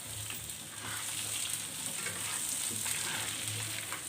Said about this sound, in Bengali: আমাদের প্রথম আলুগুলোকে আমরা একটু হালকা করে ভেজে উঠিয়ে নেব।